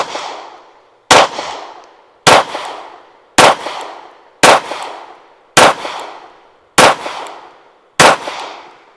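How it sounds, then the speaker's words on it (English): A Springfield Armory Prodigy pistol fires a magazine: eight loud, sharp shots spaced about a second apart, each cracking and then fading into a short echo, with silence between them. "So we'll just keep shooting this mag out."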